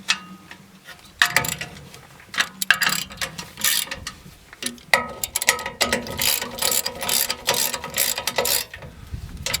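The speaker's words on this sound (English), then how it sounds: "you'll tighten them back down just like they were originally when the jack was being held in place" Bolts on a Jack-E-Up removable trailer jack receiver are tightened back down with a ratchet wrench, giving bursts of quick, close mechanical clicking separated by short pauses.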